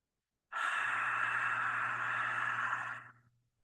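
A long, steady yogic three-part breath drawn with a restricted throat, producing a hushed, ocean-like rasp that holds evenly for about two and a half seconds before tapering off, close and alone.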